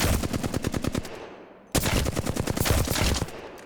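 Rapid automatic gunfire with recoil in the Apex Legends video game: two loud, close bursts of fast repeated shots separated by a short pause.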